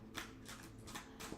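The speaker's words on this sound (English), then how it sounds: "Now, I shuffle until something jumps." Tarot cards are shuffled by hand in soft, quiet riffling bursts, several quick passes close by with no talking.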